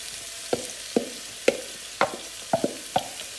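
Onions, peppers and garlic cloves fry in a pan under a constant low sizzle, broken by regular sharp clacks of stirring roughly every half second, close up and without talk.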